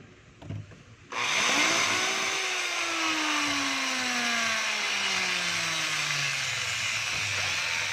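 A DeWalt DW849X polisher with a stiff variable-speed dial, sparking brushes and a damaged armature switches on after a few knocks and runs steadily with a loud whine whose pitch glides slowly downward.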